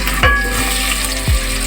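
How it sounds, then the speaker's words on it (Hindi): Onions frying in half a cup of hot oil in a pot, a loud, close, continuous sizzle with a couple of brief stirring scrapes, no voices. "सबसे पहले मैं इसमें प्याज फ्राई करूँगी।"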